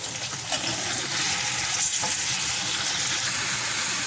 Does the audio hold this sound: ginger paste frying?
yes